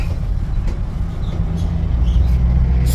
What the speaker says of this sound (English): That is a Bud Light truck.